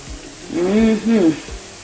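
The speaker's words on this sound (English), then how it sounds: "So we frying these" Steady sizzling of saltfish fritters frying in hot oil, with a voice speaking briefly over it.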